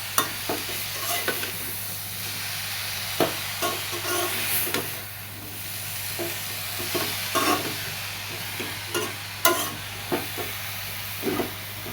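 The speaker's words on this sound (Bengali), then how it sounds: "অল্প অল্প করে দেবো আর একটু একটু করে নাড়াবো এটা একটু তাপ পড়ার সাথে সাথে শাকটা কমে যাবে" Pumpkin greens are stirred in a hot pan, a steady sizzle and hiss running throughout with scattered sharp clicks and scrapes of the spatula against the pan, close and alone without voices.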